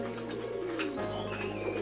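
A domestic pigeon sitting on its eggs gives soft, low, rolling coos. The sound is fairly faint and steady in a quiet space, with no speech.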